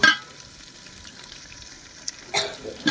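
Dal (lentils) frying in oil in a pot for khichuri, with a faint background sizzle and a few louder stirring scrapes and clinks near the start and end, close by, with no talking.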